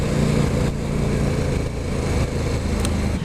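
A KTM RC8 sport motorcycle engine running hard, a loud continuous droning roar with little change in pitch, steady throughout.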